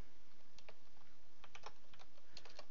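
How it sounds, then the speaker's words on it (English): A computer keyboard clatters as someone types a wget command during a Raspberry Pi setup, giving uneven bursts of quick keystrokes over a steady background hum. "I can't type to save my soul today."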